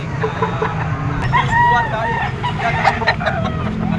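A stag rooster of the yellow-legged hatch breed at a bustling poultry market gives short clucks, rising above steady crowd babble, passing vehicles and nearby voices.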